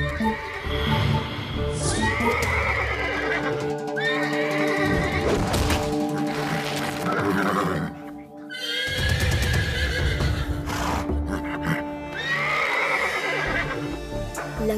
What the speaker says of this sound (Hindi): लगता है कोई जंगली घोड़ा मुसीबत में है।